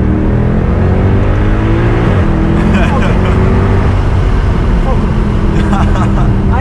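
A tuned 510 bhp Mercedes C63 AMG heard from inside the cabin as it kicks down and accelerates hard, the deep engine note climbing through the revs and shifting gear, loud and constant under the occupants' voices.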